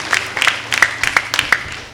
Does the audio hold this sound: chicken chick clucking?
no